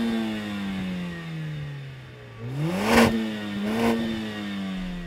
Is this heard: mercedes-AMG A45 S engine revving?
yes